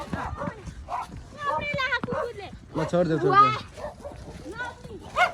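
Outdoors on a family hike, a dog gives a few short yips and barks amid several people talking and calling out nearby.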